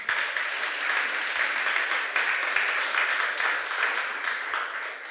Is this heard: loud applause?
yes